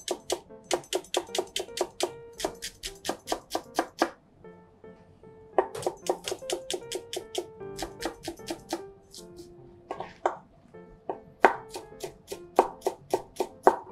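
Green onion being minced with a kitchen knife on a cutting board for a yakiniku dipping sauce, close rapid chopping in steady bursts of sharp taps with brief pauses between runs.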